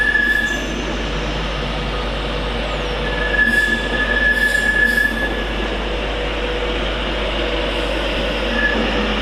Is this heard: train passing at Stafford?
yes